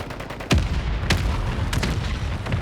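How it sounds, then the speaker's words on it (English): Mortar strike in the video game Warzone 3, with several heavy booming impacts landing a fraction of a second apart over a constant rumbling battlefield background. "Mortar strike on the way."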